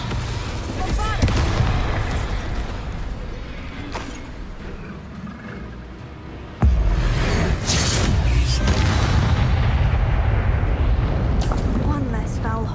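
Bombarda blasting spell in Hogwarts Legacy, set in mines and tombs: loud booming explosions with rumbling debris, one heavy blast striking sharply midway, mixed with spoken spell shouts and battle noise.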